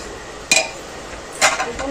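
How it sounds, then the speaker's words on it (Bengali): Metal lid lifted off a cooking pot of simmering bitter gourd and drumstick stems, two short clanks half a second apart, close and clear over quiet room tone. "ঢাকনাটা খুলে দেবো"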